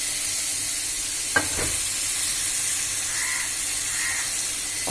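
Spice paste for a taro and shrimp curry sautéing in oil with a little water, a steady close sizzle and hiss with a few brief stirring scrapes of a spoon in the pan.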